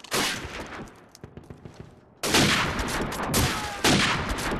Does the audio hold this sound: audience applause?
no